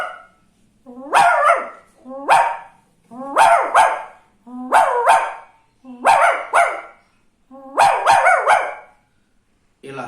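A man imitates a dog barking with his voice, giving about seven separate double barks in a steady rhythm. Each bark is loud and close, with short silent gaps between them.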